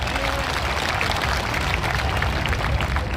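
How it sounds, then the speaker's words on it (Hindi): Steady, dense applause from the audience at a Vijay Diwas ceremony honouring martyrs at the Barmer district headquarters, filling the whole stretch at an even, loud level with no voices on top. "एक बार आप सब मिलकर अपने लिए ताली बजाएं, अपने देशवासियों के लिए बहुत सारी ताली बजाएं"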